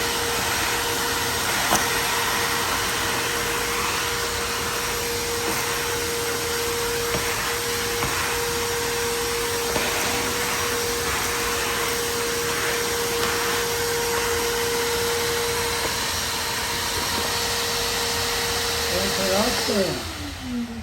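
An Ecomax 5 gallon shop vac runs at full power, a loud steady roaring whine with a constant motor hum that holds unbroken, then dips and winds down near the end.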